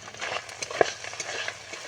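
Fish offal frying in hot oil, a steady close sizzle broken by small crackles and spits, with a utensil stirring through the pan and no voices.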